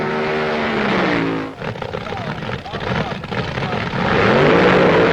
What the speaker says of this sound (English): Two cars dice for a quarter mile.